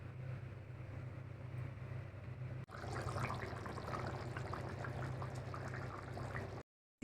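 Water poured into a simmering egg curry with potato and cauliflower, a steady close pour and trickle running for several seconds over a low stove hum, then cutting off abruptly.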